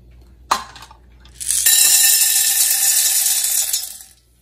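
Popcorn kernels poured into a pan of hot coconut oil: one sharp clink, then a loud steady rattling, hissing pour for about two and a half seconds that tapers off.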